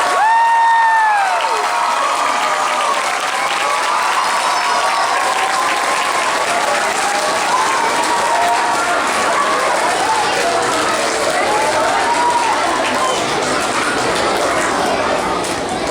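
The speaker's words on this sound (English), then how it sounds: "let's give these students a big round of applause" A school assembly audience gives students long, steady applause, a thick continuous roar of many hands with scattered cheers, whoops and chatter throughout.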